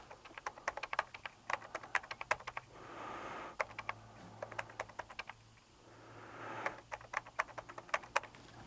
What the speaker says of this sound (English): I can type in contracted Braille.